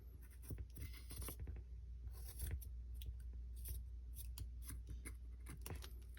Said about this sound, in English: So that means I have to cut this side off without cutting that cheesecloth